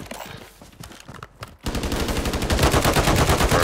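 Rapid automatic gunfire from a Call of Duty Warzone match, sparse shots at first, then a loud, dense sustained burst of machine-gun fire with no talk over it.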